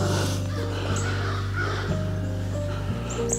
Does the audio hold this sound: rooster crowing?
yes